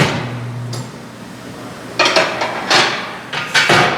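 Metallic clinks and scrapes of a tire spoon working a tire onto a wheel in a garage, several short bursts of clanking in the second half after a quieter stretch, close and fairly loud.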